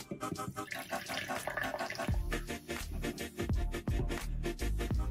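Irn-Bru Unicorn Tears soft drink poured from a can or bottle into a glass, a steady liquid stream with sputtering glugs that thicken into deeper, near, fairly loud gurgles in the second half.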